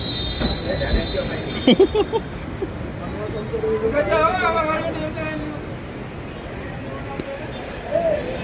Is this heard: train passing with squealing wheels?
yes